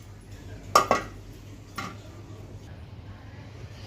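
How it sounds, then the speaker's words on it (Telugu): A cooking vessel is set down on a lit stove, giving two quick metallic clanks and then a lighter knock over a low steady hum. "పొయ్యి అంటించాను, ఇప్పుడు గిన్నె పెట్టుకుంటున్నాను"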